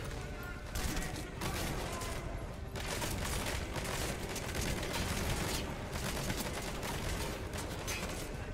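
Dense, continuous gunfire from the video game Metal Gear Solid 5, with rapid overlapping shots and bursts sustained loud throughout, and a voice briefly present in the mix.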